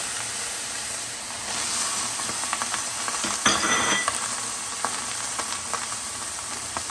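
Peas and corn heating in a dry preheated pan, a soft continuous hiss with a few faint clinks and a brief louder burst midway.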